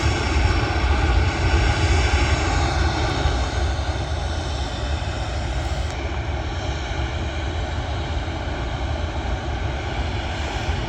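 An airplane takes off at Manchester Airport, its engines making a loud, steady roar that holds at full power through the whole stretch, heard from a viewing park near the runway.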